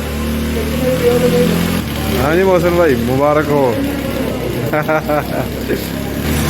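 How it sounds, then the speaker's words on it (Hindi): A new motorcycle engine started and revving, its low idle rumbling throughout beneath someone speaking, with several brief rising revs partway through. "ये स्टार्ट हो गई है जी बाइक।"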